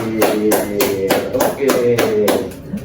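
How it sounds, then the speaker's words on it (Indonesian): A classroom group claps hands in a steady, even rhythm of repeated strikes lasting nearly three seconds, loud and close, with no talk over it. "Beri tepuk tangan buat Mas Azril."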